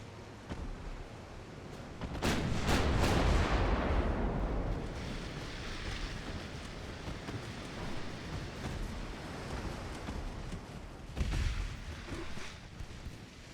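Battleship main and secondary guns fire in Ultimate Admiral: Dreadnoughts. A heavy, rolling boom around two seconds decays into a long rumble, with a second sharper report near eleven seconds. Distant blasts fill the gaps, and no voice is heard.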